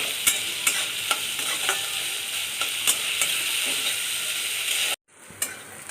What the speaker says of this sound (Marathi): पटकन परतला जातो कांदा